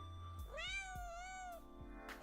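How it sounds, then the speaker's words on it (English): A pet cat meows close to the microphone: one drawn-out, clear meow with a rising then falling pitch, plainly heard over a quiet room background with no talking. "She literally meowed facing the mic."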